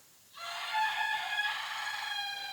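A rooster crows outdoors in the morning, one loud, sustained call starting after a brief quiet moment and carrying close to the microphone with no other sounds.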